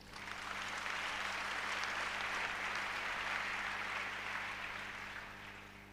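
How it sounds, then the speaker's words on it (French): A church congregation applauds in praise, a sustained wash of clapping that swells and fades over several seconds, with no voices over it. "Acclamons le Seigneur"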